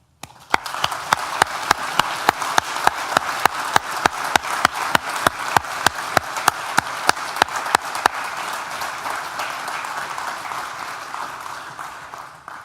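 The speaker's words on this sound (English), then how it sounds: "Graduands, please join me in a round of applause to thank all of those" Graduation audience in a hall breaks into sustained applause, dense clapping with a strong regular beat of synchronized claps for the first eight seconds, then settling into an even, continuous roar of hands.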